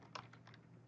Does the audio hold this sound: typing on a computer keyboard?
yes